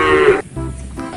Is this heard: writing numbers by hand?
no